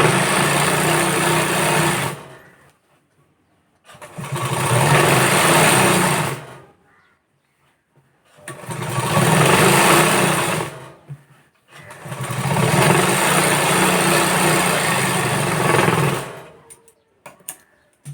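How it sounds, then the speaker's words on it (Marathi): A sewing machine double-stitches a blouse sleeve in four steady runs of a few seconds each, with short quiet pauses between them; no one speaks. "आता मी याला डबल टिप मारून घेणार आहे"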